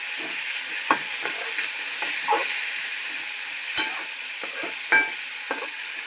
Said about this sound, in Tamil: ஒரு 5 மினிட்ஸ் இதே மாதிரி நல்லா ஃப்ரை ஆகட்டும்.